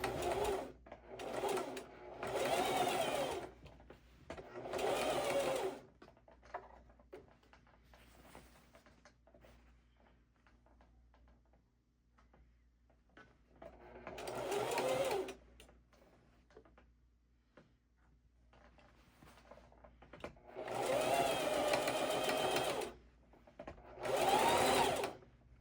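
A sewing machine stitches fabric in several separate runs, each a few seconds of quick rhythmic whirring, separated by quiet gaps with faint handling sounds.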